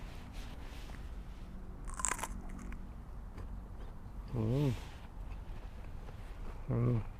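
Fresh Barhi dates being bitten and chewed, with a few soft crunches close to the mic over low outdoor background noise, and brief voiced sounds breaking in twice.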